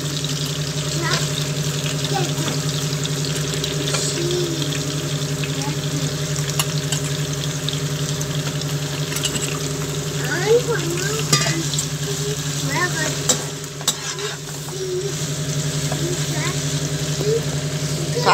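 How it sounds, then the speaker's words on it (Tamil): Broad beans (avarakkai), about 200 grams, sauté in a pan for sambar, making a steady soft sizzle under a constant low hum, with occasional stirring clinks and a faint voice in the background. "காய் வதங்கட்டும் கொஞ்ச நேரம்"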